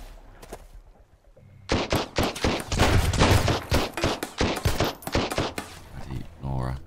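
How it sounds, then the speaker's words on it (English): Rapid automatic gunfire in the survival video game Sunkenland, a loud close burst of many quick shots lasting several seconds before a short pause and a few more. "Guns in this bloody game."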